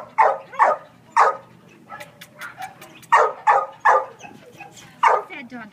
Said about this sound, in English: What's that doggy saying, huh?